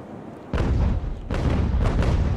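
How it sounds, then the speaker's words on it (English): Chain shot cannon fire from sailing warships in the naval game Ultimate Admiral: Age of Sail, two heavy booming volleys about three-quarters of a second apart, each a dense rolling cluster of shots with rumbling tails. "Here goes the chain shots"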